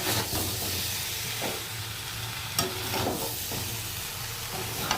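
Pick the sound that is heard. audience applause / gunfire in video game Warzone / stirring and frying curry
stirring and frying curry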